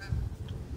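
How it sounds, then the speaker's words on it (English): A brief honk from a goose, faint and distant, over a low outdoor rumble. "So we have to deal with honking geese"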